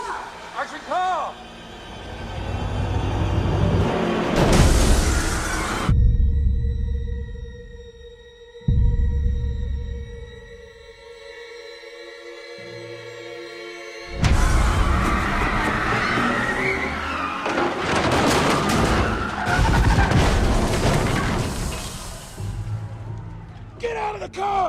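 A stunt car roars in and skids on a film set for The Batman, engine and tire noise loud and close in two long bursts separated by a quieter stretch with a tonal hum, while people shout over it.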